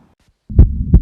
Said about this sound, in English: Is that giving you a clue? The heartbeat.